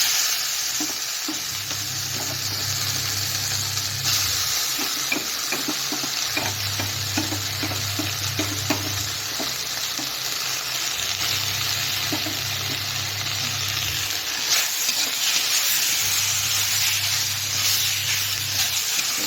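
Soya chunks fry in a pan with ginger, garlic and green chili paste, giving a loud, steady sizzle with repeated scraping stirs throughout and no voices.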